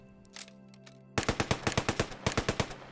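A 6.5mm Type 96 light machine gun firing in the Squad 44 shooter game: after a faint shot, a loud steady burst of about a dozen evenly spaced rounds rattles close by.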